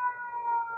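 Brief steady wailing siren with stacked tonal harmonics, sustained and fairly faint, from emergency vehicles such as fire trucks and police cars nearby.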